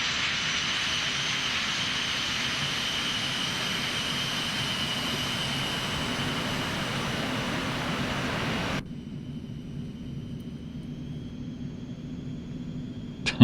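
An Eclipse 550 jet taxiing in X-Plane 11, a steady whining engine drone with broadband roar that cuts abruptly to a quieter hum near the end, followed by a brief click.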